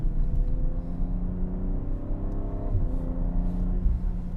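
BMW Alpina car engine accelerating out of a corner on a hilly road, a steady low rumble heard from inside the cabin with smooth rising tones and no talking.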